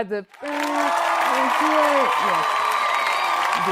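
Studio guests on a leadership episode breaking into applause, dense clapping starting after a short pause and sustained to the end, with voices talking over it.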